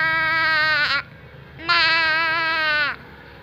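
A human voice imitates a goat with two drawn-out, wavering bleats, the second longer than the first, loud and close.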